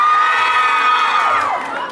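A crowd of fans at an investment expo event screams and shrieks loudly and continuously, high-pitched cheers filling the space without talk.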